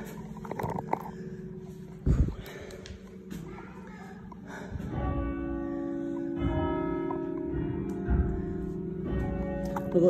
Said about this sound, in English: Oh, now you can hear the bells a little better.